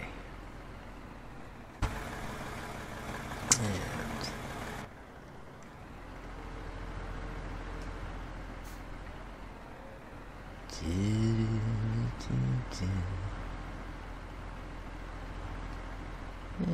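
A tractor in Farming Simulator 17 pulls a trailer, a low steady engine drone running throughout, with a few mechanical clunks and a brief rise in engine tone midway, fairly quiet and without talk.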